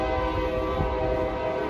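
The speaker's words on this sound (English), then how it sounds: "Come on, train, I'm talking." A train passes outdoors beside an above-ground pool, its horn sounding as a sustained, fairly loud tonal blast over the rumble of rail cars rolling by.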